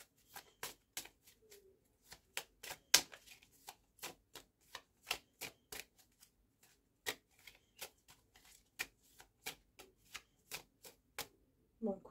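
Tarot cards are shuffled and dealt during a horoscope reading, making a steady run of crisp, close card flicks and taps with short gaps between them. The room is otherwise quiet.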